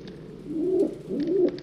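A pigeon cooing in the adventure video game Anna's Quest, two soft low rolling coos in a row, close and clear, heard alone with no voices.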